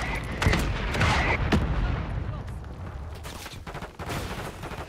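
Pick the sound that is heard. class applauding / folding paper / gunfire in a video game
gunfire in a video game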